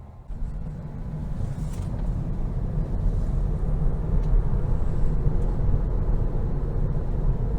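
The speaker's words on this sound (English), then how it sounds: "this Model 3 long range accelerates very well" A 2022 Tesla Model 3 Long Range accelerating on a road, heard from inside as a steady low rumble of tyre and road noise that builds slightly in loudness, with no engine note.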